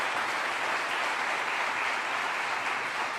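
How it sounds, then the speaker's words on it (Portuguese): Church congregation applauding during a sermon, a continuous, even roar of many people clapping together, full and unbroken throughout with no voices standing out. "Você pode aplaudir a palavra do nosso Deus?"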